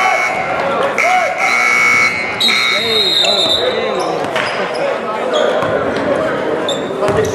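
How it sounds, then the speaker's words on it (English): A loud electronic buzzer blares through a high school basketball game at the Governor's Challenge, ringing over crowd noise and squeaking sneakers in a busy gym. "It's tough when the buzzer hits and you got two games going on."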